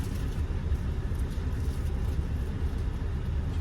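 A Scania lorry engine idles with a steady low rumble, an even, continuous drone heard close and unbroken with no talk over it.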